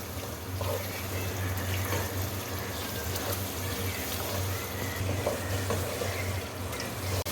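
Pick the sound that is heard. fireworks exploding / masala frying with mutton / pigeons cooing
masala frying with mutton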